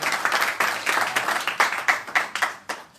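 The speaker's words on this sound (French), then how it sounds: "Donc Monsieur Yakouben, que vous pouvez applaudir un petit peu." An audience applauds at a press conference for a boxer, a dense burst of clapping from a room of people that pulses along and fades toward the end.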